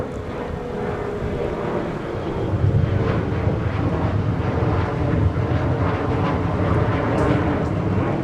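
A CRJ regional jet departs in snowy, windy winter weather at MSP airport, its engine roar steady and fairly loud, swelling slightly after a few seconds, with gusty wind noise buffeting the microphone throughout.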